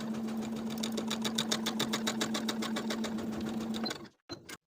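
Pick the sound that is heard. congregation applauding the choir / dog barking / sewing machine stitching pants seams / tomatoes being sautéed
sewing machine stitching pants seams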